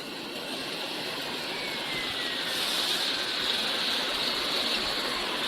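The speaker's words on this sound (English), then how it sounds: "You can see the water in bubbling." An air blower bubbling water in the washing tank of a French fries production line gives a steady, loud, broadband rushing hiss, like a stream or jet, unchanging for the whole stretch with no voices.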